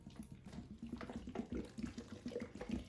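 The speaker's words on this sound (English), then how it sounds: "you go ahead and take a bottle of dechlorinated water, like the instructions say to, and I go ahead and pour that in here." Dechlorinated water poured from a bottle onto soil in a mourning gecko enclosure, a steady close splashing trickle lasting a few seconds with no talk.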